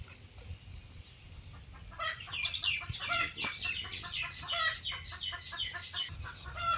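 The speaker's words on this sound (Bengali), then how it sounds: "মা মুরগি তো মনে হচ্ছে ডিম পারলো না" A hen in a village household clucks in a rapid, continuous run of loud, close calls after a few quieter seconds at the start.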